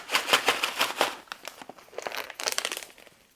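A ration meal pouch from a 2022 Dutch armed forces operational ration being zipped shut so it can steam, giving a run of close, crisp plastic crinkling and rustling bursts that fade out at the end.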